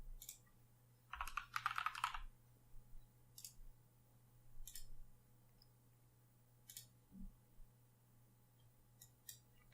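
Quiet keyboard typing comes in a short burst of rapid clicks, followed by a few scattered single key presses and mouse clicks over a faint hum.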